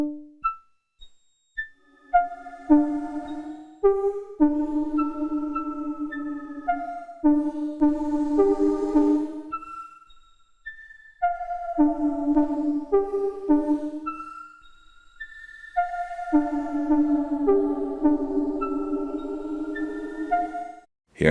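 Erica Synths modular reverb on a sequenced synth line, its feedback stepped by clocked random voltage while sine LFOs sweep size and tone, so each clear pitched note blooms into a shifting, ringing tail with short silent gaps between phrases.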